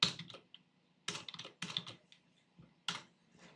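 Bursts of quick keystrokes on a computer keyboard as HTML code is typed, several close, clicky clusters separated by short pauses, with no talking.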